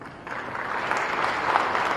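An audience breaks into applause at a gathering honouring a Madhya Pradesh teacher, a short burst of clapping that swells slightly and holds steady for a couple of seconds.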